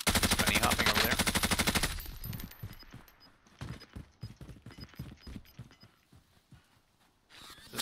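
Gunfire in a Call of Duty Warzone match: a rapid automatic burst for about two seconds, then scattered sharper single shots and short bursts with quieter gaps, game effects heard without talk.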